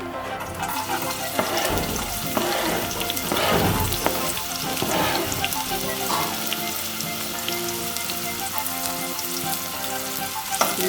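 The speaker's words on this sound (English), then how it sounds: "We stir the onions until it is golden brown." Onions fry in a pan for a Kenyan-style egg stew, giving a steady, dense sizzle throughout with scraping and stirring noises rising through the middle, close and loud, no voices.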